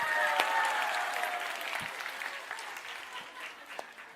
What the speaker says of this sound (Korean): 박수가 더 커야 돼요